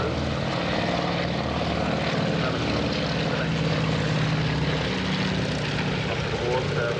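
A Junkers Ju 52 tri-motor aircraft at a Duxford air show drones steadily overhead, its propeller engines making a continuous moderate hum, and speech is faintly audible beneath it.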